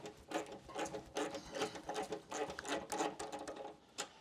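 A ratcheting wrench backs a rear tank mount nut off an M8 Softail Lowrider ST, a close, steady run of fast clicking pulses for about four seconds with no voices.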